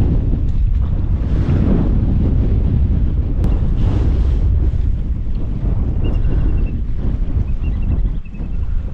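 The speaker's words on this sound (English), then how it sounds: "wind's starting to get pretty cold." Cold wind roars steadily across the microphone beside a lake in Lapland, a loud, continuous low rumble with lapping water underneath and no talk.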